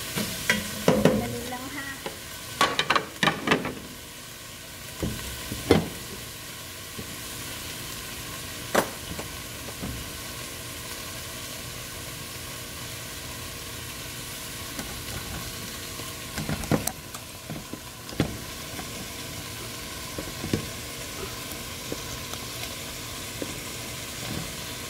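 Food browning in a home pan, with a soft steady sizzle and hiss under scattered stirring scrapes and clanks of a utensil, fairly quiet and close.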